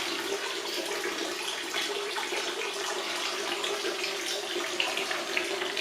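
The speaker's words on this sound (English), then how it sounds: "It's been raining a bit, so you can see the rain's coming in these pipes." Rainwater running and dripping in through pipes inside a dome home, heard as a steady, fairly quiet watery trickle that continues without a break.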